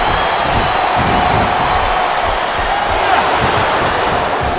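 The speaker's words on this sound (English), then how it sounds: "I love hearing the crowd come alive" A packed crowd in a wrestling arena roars steadily during a televised match. The cheering is dense and continuous and holds at a loud level, with scattered whoops rising from the mass of voices.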